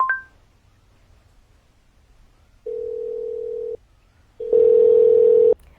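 A telephone call to an AC company's customer care opens with a short beep, then a steady ringing tone sounds twice in longer, louder bursts separated by silence.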